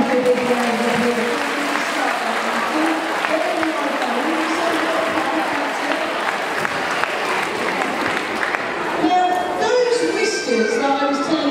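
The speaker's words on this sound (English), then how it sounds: "But give them both a big round of applause." An audience applauding at a sea lion display, sustained crowd clapping that holds steady before tapering off, with a presenter's voice picking up near the end.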